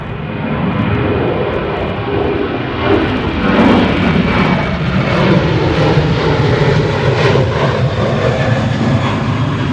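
Norwegian airliner jet at London Gatwick Airport on a stormy day, a loud sustained engine roar with broad rushing noise and a steady whine, heard alone without talk.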